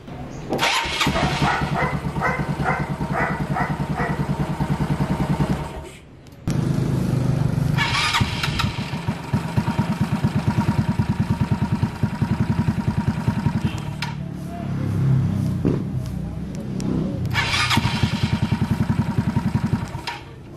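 A motorcycle engine with a remote starter cranks and catches to a rough idle, cuts out, then starts again several times, loud and close.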